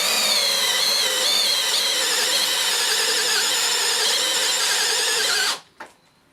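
A Dewalt Powerstack hammer drill in high gear spins a 68mm hole saw with a loud, steady, high-pitched whine. The whine wavers slightly, then stops abruptly near the end, leaving a brief clatter.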